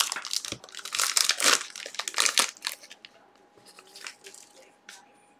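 Sports trading card packs, Select football, are torn open and their foil wrappers crinkled and crumpled in quick, close bursts during a card break, fading to lighter rustling toward the end.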